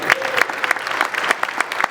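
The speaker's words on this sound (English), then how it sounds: "please give a great round of applause for our honored guests and both the new and old" Applause from an audience at a hall of fame induction ceremony for honored guests and new and former inductees, dense steady clapping close by and fairly loud, with a few voices murmuring underneath.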